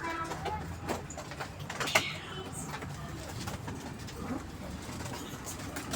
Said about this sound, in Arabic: يلا انا هفتح الرف عشان الحمام يطلع الشمس